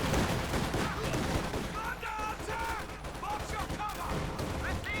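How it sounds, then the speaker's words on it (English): Light anti-tank gun firing in the real-time strategy game Company of Heroes 2, its shots mixed into a dense wash of battle gunfire and explosions while a commentator talks over the action. "light anti-tank gun opening up the flak half-track"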